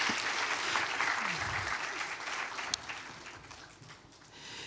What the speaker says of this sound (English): please give warm applause to all of our speakers